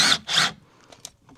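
A saw cuts wood on a caravan frame during renovation, making two quick rasping strokes up close followed by faint scraping and small knocks.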